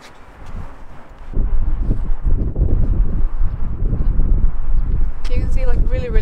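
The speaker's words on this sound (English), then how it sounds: "It's really windy here." Strong wind roars across a microphone at a high viewpoint overlooking an amusement park in Tampere, a loud, continuous low rumble that rises sharply after a quieter start, with people talking over it.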